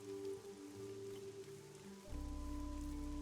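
Steady rain falls in the fantasy adventure game Fall of Porcupine, a soft continuous patter over quiet background music, with no talking.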